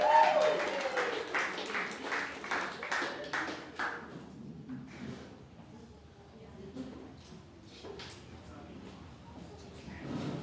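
An audience claps at a wedding reception at Markovina in Auckland, New Zealand, with loud, close applause for about four seconds that thins into scattered claps and murmuring.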